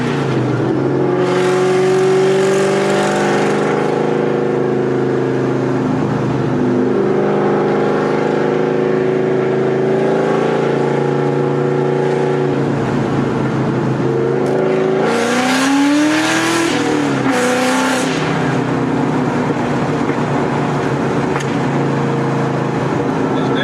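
A cammed Ford SVT Cobra Terminator engine roars loud and close, with its pitch climbing through several rising sweeps as it accelerates and revs hard, and no voices over it.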